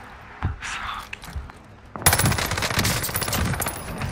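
Gunfire in Call of Duty: Warzone, a few scattered shots and quiet sounds at first, then a sudden sustained burst of rapid automatic fire that continues to the end, close and loud.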